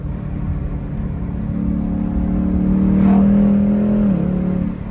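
A Ford Mustang S550 Mach 1 engine hums steadily from inside the car while driving, swelling into a louder sustained drone that holds for about two seconds before easing back.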